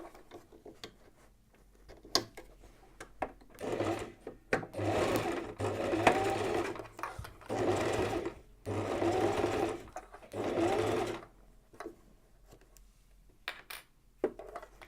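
A sewing machine stitches a fabric catch-all in a circle, running in several loud bursts of a few seconds each, separated by pauses with light clicks and handling noises.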